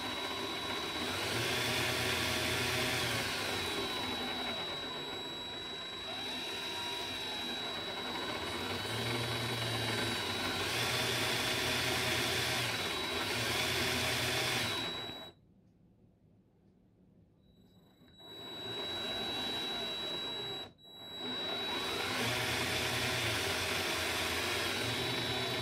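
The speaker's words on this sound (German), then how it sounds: "werde ich mal etwas die Motoren bewegen" Electric drive motors of a GPS RTK ArduMower robotic lawn mower whir steadily with shifting pitch as they are driven back and forth, cutting out briefly twice before resuming.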